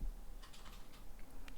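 A date being typed on a computer keyboard, a quick cluster of soft, close key clicks over a faint room hum.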